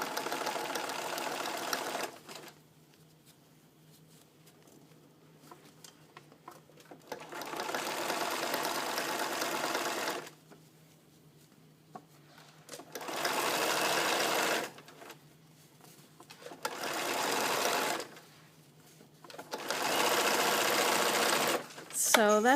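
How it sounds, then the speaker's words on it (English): Sewing machine stitching double welt cording for upholstery, running in several loud sustained bursts separated by quiet pauses, with talk between bursts. "you're going to stitch right along that same line of stitching, which is right in between the two halves of the cording"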